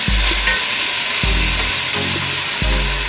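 Chopped celery, about two stalks, sizzles and fries steadily in a pot for ground beef soup, with three low thumps of stirring or handling breaking through the constant hiss; no talking.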